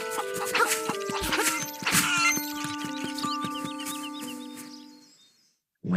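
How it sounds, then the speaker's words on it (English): A cucco chicken in Link's Awakening on Switch clucks in rapid, chirpy bursts over the game's tonal background music, ending in a sudden cutoff to silence. "Chicken!"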